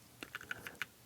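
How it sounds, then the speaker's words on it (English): Five crisp, light key taps come in quick succession on a keyboard paired with a Kindle Fire tablet, close up and quiet, with no voices. "as I'm typing this stuff in"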